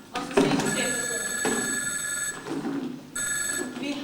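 Mobile phones ring during a classroom lesson, bright electronic tones starting and stopping in several loud bursts with a short gap between them.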